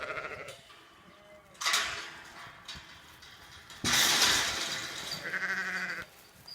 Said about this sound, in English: all the ewes and lambs are over here